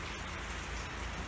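Rain falling outdoors near a railway station help point on the Isle of Wight, a dense steady patter of drops on hard surfaces, close and continuous throughout the short stretch, with no talking.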